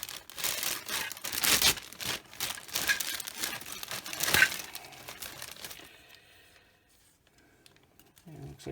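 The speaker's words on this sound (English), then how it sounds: "get it out of the bag would be wonderful" Plastic bag crinkling and rustling as a 1/25 scale AMT construction bulldozer model kit part is unpacked, a run of close, busy crackles and rustles that fades into near silence.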